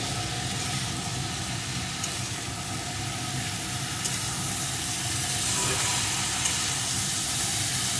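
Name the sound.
frying lentils with ash gourd in a pan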